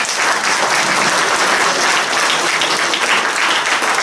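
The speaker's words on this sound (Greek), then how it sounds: "Και μόνο που είναι εδώ αξίζει χειροκρότημα" A crowd claps loudly and steadily throughout at a political speech in Lamia, forming a dense, continuous wash of applause with no talk.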